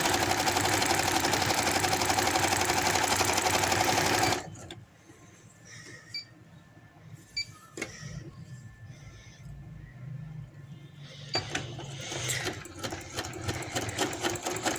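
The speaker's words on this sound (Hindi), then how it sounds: "एंड तक मैं इसको सिलाई लगा देती हूँ, फिटिंग वाली साइड वाली सिलाई" A sewing machine stitches the side seams of a lined maxi frock, running in a fast, loud, close chatter, pausing into quiet handling noises, then starting to whir again near the end.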